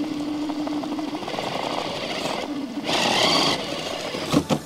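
The motor of an RC crawler truck, a Cross RC EMO AT4 or Traxxas TRX-4 Bronco, whines and strains as the truck climbs over rock. The motor sound swells in the middle, and scraping knocks follow near the end.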